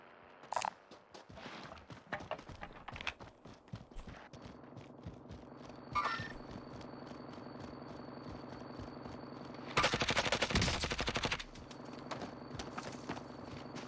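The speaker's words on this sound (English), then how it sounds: "now we're getting shot at from another team" Gunfire in the Warzone video game: scattered sharp shots and clatter among footsteps-like ticks, with a loud dense burst of firing near the end, no talk.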